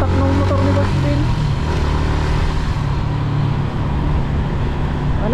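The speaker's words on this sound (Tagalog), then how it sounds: "Ang lakas talaga ng atak ng motor ni Boss Vince" A motorcycle rides along a road toward Baguio with a loud, close engine drone that opens with a higher revving whine, then settles into a steady roar mixed with wind and road noise.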